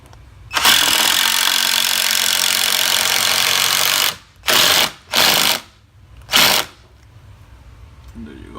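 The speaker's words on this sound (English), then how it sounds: "an impact driver, screws, of course" An impact driver drives screws into a wooden door frame: one long loud rattling burst, then three short hammering bursts, all up close with no talk.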